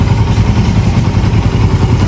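A Suzuki Raider 150 fuel-injected motorcycle engine running close by, a loud steady idle with a busy mechanical clatter and no voices.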